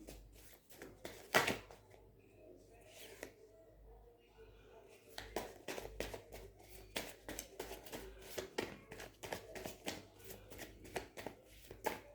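Tarot cards being shuffled in repeated quick riffles and flicks, close and crisp, with a brief pause midway before the shuffling resumes, fairly quiet overall.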